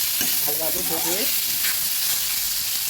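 Ginger, turmeric and salt fry for a red spinach dish, making a loud, continuous close sizzle with light stirring, and a brief voice-like tone comes through early.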